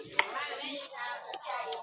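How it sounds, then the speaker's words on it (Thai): A knife chops shallots on a board in a few quick, light, irregular strokes, close and fairly quiet. "หั่นหอมแล้วนะคะมันเป็นตาแสบเว้ย"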